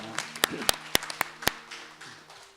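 A church congregation claps in thanks during a baptism service: scattered, uneven applause with a few sharp, close claps, fairly faint, plus a little background murmur.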